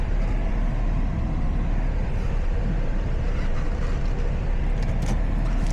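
A car pulls away from a car wash in Riyadh, a steady close interior rumble of engine and road noise running throughout, with no speech over it.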